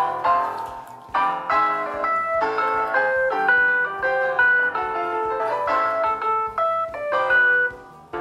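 Rehearsal track of soprano-part notes played on a synthetic keyboard-like tone, a slow sequence of clear sustained pitches with short gaps, moderately loud and alone without voices.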